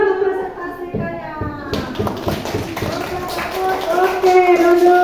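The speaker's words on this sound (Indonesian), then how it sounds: "tepuk tangan untuk teman yang sudah mempresentasikannya" Classroom applause for students who have just presented: scattered children's clapping and tapping under steady teacher and child speech, building louder toward the end.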